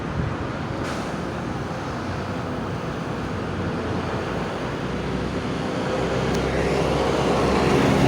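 A big truck passes on a nearby road, a broad, steady rumble of traffic noise that swells louder toward the end.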